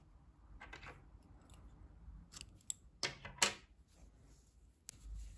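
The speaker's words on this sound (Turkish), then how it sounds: "İpliği kesiyorum." Scissors cutting yarn at the end of a crochet round: a few close, crisp snips and blade clicks in a quiet room, the sharpest cuts bunched near the middle, with no talk.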